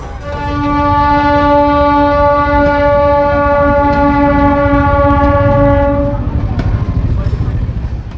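A train passing a railway level crossing on a rural road, its horn blaring long and loud with the rumble of rail wagons beneath, close by throughout.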